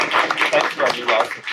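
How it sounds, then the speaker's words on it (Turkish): Esports event audience in Turkey clapping, a brief burst of rapid, close applause with a few louder bunched claps, busy and steady before tapering slightly. "Bir alkış alalım"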